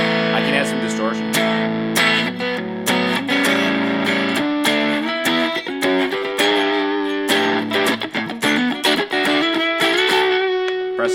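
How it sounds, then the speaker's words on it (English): Heavily distorted electric guitar chords ring out in choppy, stop-start bursts, loud and close. "I can add some distortion"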